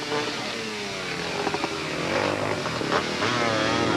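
Several ATV engines run loud and continuous during the Blackwater 100 race of 1990, their revving rising and falling with wavering pitch as the machines cross sharp, jagged rocky terrain; no talking.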